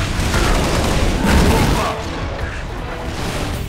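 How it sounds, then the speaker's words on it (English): Halo rocket launcher fire in a video game, a dense, loud rush of blast and explosion noise that swells and then fades into rumbling gunfire for a few seconds. "Rocket Launcher."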